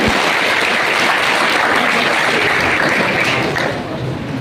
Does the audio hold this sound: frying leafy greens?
no